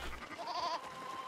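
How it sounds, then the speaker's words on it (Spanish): A goat in the Red Dead Redemption 2 video game lets out one short nasal bleat, near and moderately loud, over quiet ambient game sound. "Es la cabra, no manches."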